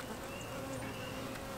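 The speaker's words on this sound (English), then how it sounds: "those bees aren't happy with me" A dense, agitated buzz of honey bees at a hive being smoked, a close, steady drone of many wings that holds level throughout the short moment with no voices.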